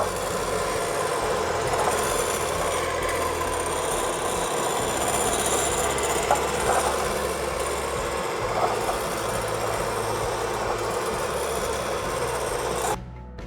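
Electric blender whirring steadily while oil is beaten into homemade mayonnaise, a loud continuous grinding motor drone that runs without a break and cuts off at the very end.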